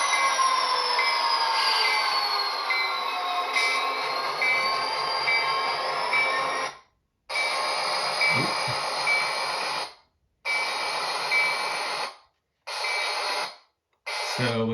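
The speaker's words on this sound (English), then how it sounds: "the locomotive is not exactly happy with this test track, probably because it's very dirty" Athearn SD40-2 model locomotive running on a dirty test track, giving a continuous high-pitched whine and squeal, steady at first, then repeatedly cutting out and restarting in short bursts as power to the motor drops.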